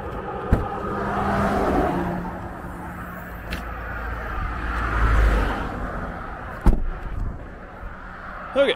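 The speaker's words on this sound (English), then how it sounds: "I'm gonna start driving back home now." A car pulls away and drives off, a rumbling engine and road noise swelling and easing with a few knocks and thumps, close and fairly steady.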